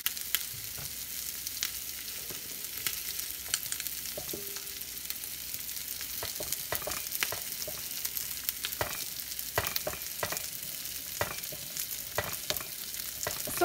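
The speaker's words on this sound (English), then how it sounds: "So I'm just scraping the bottom of the beans," A spoon scrapes the bottom of a pan of cooking beans on the stove, with irregular scrapes and soft knocks over a steady bubbling sizzle, close and without talk.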